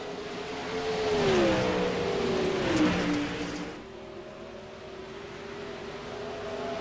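360 sprint cars race at Volusia Speedway, one engine rising and falling in pitch as it passes close by, then a steadier, fainter drone of cars farther around the track.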